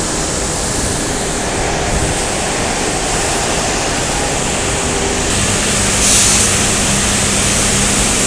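Water gushing from a boiler bed drain outlet at a thermal power plant, a dense, loud, steady roar of flowing water with a brief surge near the end, no talking.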